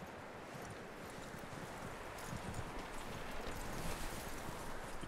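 Horse hooves clip-clop steadily over a dense, noisy background in the video game Red Dead Redemption 2, the rhythm growing slightly louder toward the end.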